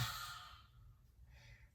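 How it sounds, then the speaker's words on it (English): A single long breathy exhale through an open mouth with the tongue out during a yoga flow, close and soft, fading out over under two seconds. "Open mouth, exhale, stick your tongue out."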